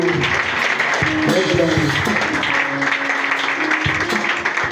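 A church congregation at a Sunday service applauds and cheers together, sustained clapping over a voice and crowd noise, loud and close throughout.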